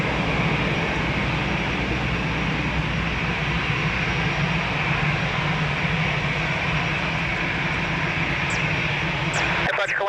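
An Airbus A330 airliner at Lisbon Airport, its engines giving a loud, steady, broadband roar that lasts throughout, with faint voices at the end.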